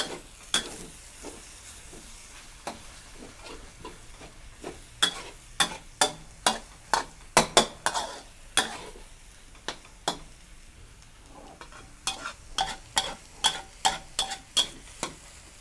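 Glass noodles and vegetables stir-fried together in a pan, with a spatula scraping and tapping the pan in quick, loud, irregular strokes over a soft sizzle.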